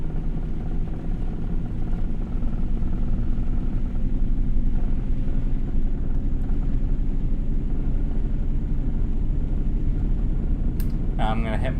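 A Volvo truck with a 12+2 transmission drones steadily at low pitch while being shifted between gears, a continuous loud cab rumble with a brief click near the end.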